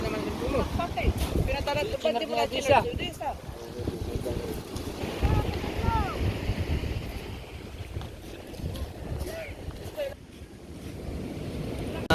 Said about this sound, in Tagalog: parating pang bangka